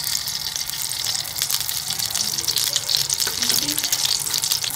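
Ghee heats in a karahi for a chicken karahi, giving a steady, soft hiss and crackle that runs without a break, close and fairly quiet, with no voices heard.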